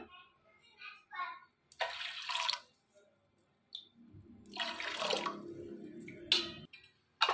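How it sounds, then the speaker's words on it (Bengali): Hot water poured into lentils for a grandma-style biulir dal, gushing in a few separate bursts with quiet gaps, close and moderately loud, with brief speech early on. "গরম জলটা আমি পরিমাণ মতো দিয়ে দিলাম।"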